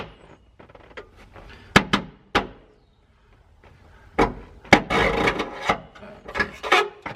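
A shifter cable is pushed through a car floor during a Precision Performance Products shifter install, giving close scraping, rubbing and knocking bursts separated by quiet pauses.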